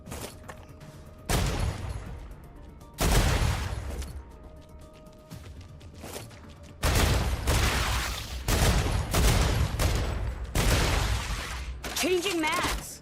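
Bursts of gunfire from the StarRupture game come in loud, sustained volleys separated by brief pauses, with a voice speaking between them.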